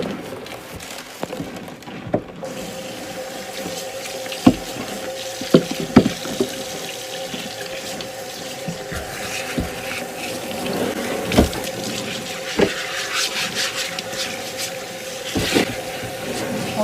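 Water runs steadily over a raw cured ham as the salt is rinsed off, a loud continuous wash broken by occasional knocks and clatters near a sink.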